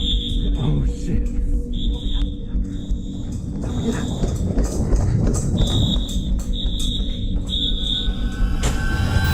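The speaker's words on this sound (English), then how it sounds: "With alarms buzzing loudly" An electronic alarm beeps loudly in repeated steady pulses inside an abandoned building during urban exploration, under rustling movement and low background noise.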